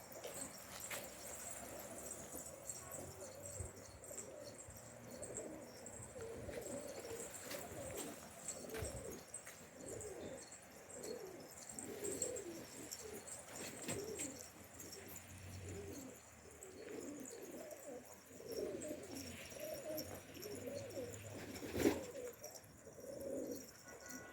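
Pigeon cooing outdoors, a run of soft, low repeated coos in a steady rhythm over faint background ambience, with no talking.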